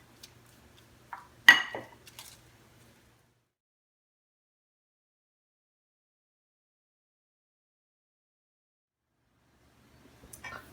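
Baking dishes go into a preheated oven with a couple of faint clinks and a sharp metallic clatter near the start, then a long stretch of near silence and a soft knock at the end.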